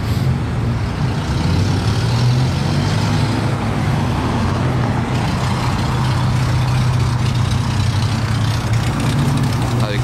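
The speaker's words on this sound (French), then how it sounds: "J'entends des moteurs ronronner de tous les côtés là." Car and truck engines idle together at a red light in Paris traffic during a rally of thousands of cars, a loud, continuous low rumble surrounding the listener with voices talking over it.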